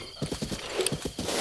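A horse near a stable in a Zelda video game whinnies briefly over a run of rhythmic hoof clip-clops, close and fairly quiet, with no talk.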